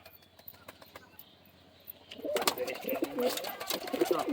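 Madras pigeons cooing in a loft, soft and close, rising busier after a quiet start along with some wing shuffling and faint background voices.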